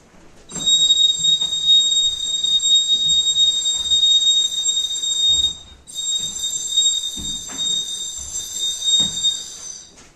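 A train rolls past in a staged radio drama scene, a loud sustained rumble with high, steady wheel squeal that breaks briefly midway, then resumes with occasional low thuds from the cars.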